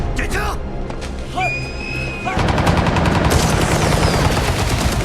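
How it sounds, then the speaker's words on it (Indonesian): Gunfire from a war film scene: a few sharp shots crack out early, then a louder, denser burst of firing and rumbling action takes over the second half. "Dengan beberapa tembakan, Zhang berhasil mengenai pesawat miliknya"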